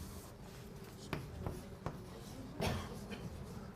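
Chalk or pen writing out a math integral during a calculus lecture, with faint scratchy strokes and a few sharp taps over a steady room hiss, with no talk.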